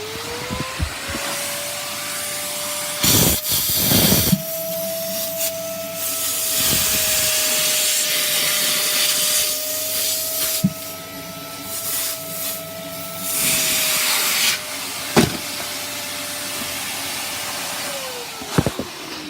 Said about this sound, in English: let's see how the vacuum can suck up all of these